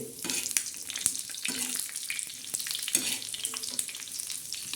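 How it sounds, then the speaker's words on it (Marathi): Bombay duck fish frying in oil on a flat tava, giving a steady close sizzle with a few sharper crackles and pops, and no voices. "लालसर आपण बोंबील भाजून घेऊया"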